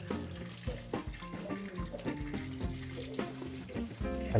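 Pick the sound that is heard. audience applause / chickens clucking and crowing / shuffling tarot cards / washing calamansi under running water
washing calamansi under running water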